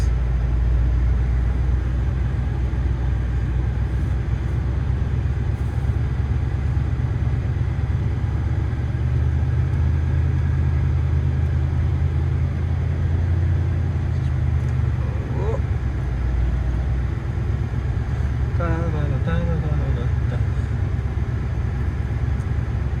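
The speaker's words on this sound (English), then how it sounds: "So my car is too big to turn around, so I have to back up all the way down our driveway." A car's engine rumbles low and steady while reversing down a long driveway, a constant drone throughout with a voice talking over it.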